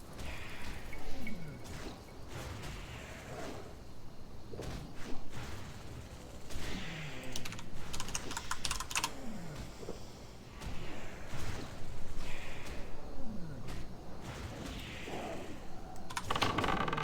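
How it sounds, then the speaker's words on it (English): A Cherry MX Brown mechanical keyboard typing in steady bursts of clicky keystrokes over a long stretch, mixed with soft swishing background sounds. "I use a Cherry MX Brown mechanical keyboard from maxkeyboard.com."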